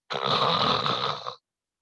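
A person imitates snoring with the voice, a single drawn-out rasping snore that sounds close and fairly loud, alone and lasting just over a second before stopping.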